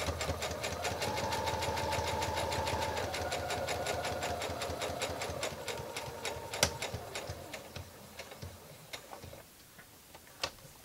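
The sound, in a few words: sewing machine stitching and turning a corner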